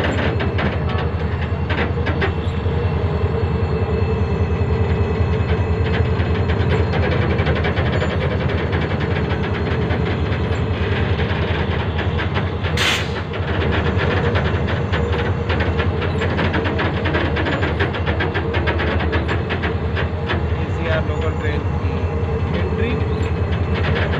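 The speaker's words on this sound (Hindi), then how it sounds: "प्लेटफॉर्म नंबर 2 पर KCR अराइवल हो रही है कराची सिटी से, कराची कैंट रेलवे स्टेशन पर।" KCR commuter train arriving from Karachi City at platform 2 of Karachi Cantt railway station in Pakistan, a steady loud rumble and rattle of rolling stock with dense clicking throughout, a brief high hiss near the middle and talk mixed in.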